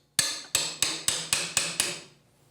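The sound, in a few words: tapping a pry bar in behind trim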